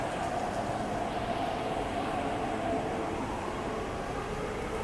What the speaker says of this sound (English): I really like the motor for our trains.